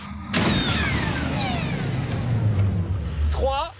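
A car accelerating hard during a timed speed test, with its engine roaring steadily and loud throughout while people talk over it.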